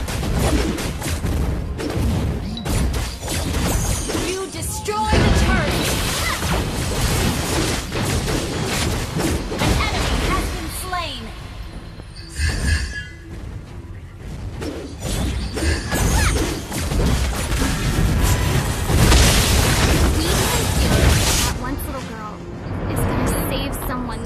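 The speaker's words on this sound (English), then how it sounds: "Your team destroyed the turret." Turret destruction during a Mobile Legends match, a busy barrage of crashes, shattering hits and whooshing blasts that stays loud throughout, with game announcer voice lines over the battle noise.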